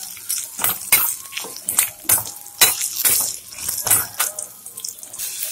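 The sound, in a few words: ingredients sautéing in hot oil for chickpea gravy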